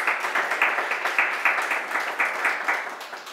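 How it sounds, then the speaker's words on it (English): Audience applause at a business and fintech talk show, a steady patter of clapping from a small group that rises and falls in gentle surges across its length. "Big round of applause for Dipali."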